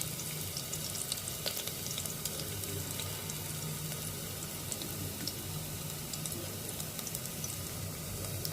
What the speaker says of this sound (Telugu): అల్లం బాగా ఫ్రై చేసుకోవాలి.